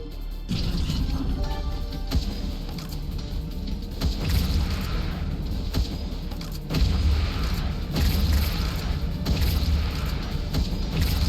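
Explosions from a bomb thrower in the Wall World video game, a steady run of deep booming blasts and crashing impacts over a dense, continuous game soundscape, with heavier bursts around the middle and later stretches.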